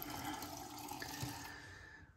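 Tap water runs and splashes as a face is wetted before a wet shave, a steady rushing wash that fades out at the end.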